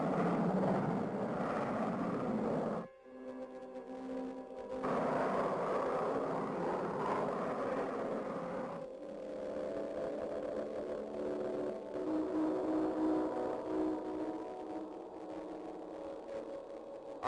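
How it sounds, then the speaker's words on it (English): An empty space freighter blasts off in an animated sci-fi cartoon, a loud roaring engine rumble broken by a brief drop and then a second wave of thrust that settles into a droning hum. "Scott and Crystal blast off in the empty space freighter, with Taurus following close behind in the Starduster"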